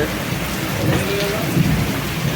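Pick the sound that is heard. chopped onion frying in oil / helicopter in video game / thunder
thunder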